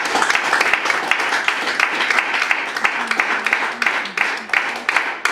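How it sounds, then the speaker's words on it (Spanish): A church congregation applauds during a service, a steady wash of clapping with some louder nearby claps and faint voices mixed in. "Un aplauso al Señor Jesús."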